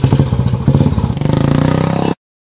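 A Royal Enfield Bullet motorcycle circles on a school ground, its engine thumping in a steady rapid beat close by with rattling and scraping, then cutting off abruptly.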